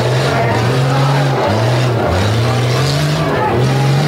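Monster trucks race side by side, a black and blue Jeep against a Subaru Crosstrek, at a monster truck show: loud continuous engine roar with revving pitch swings and a crowd and announcer din running under it throughout.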